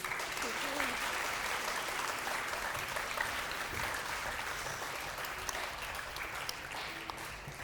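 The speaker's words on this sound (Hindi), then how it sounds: "सारिम के लिए बहुत सारी तालियां होनी चाहिए।" Studio audience applause for a boy named Sarim on a Ramazan television show, a dense continuous wash of clapping and crowd noise with faint voices underneath throughout.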